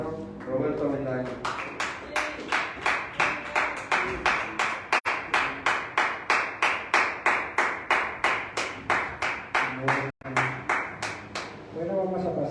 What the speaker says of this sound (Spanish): Vamos a dar un fuerte aplauso a Cristo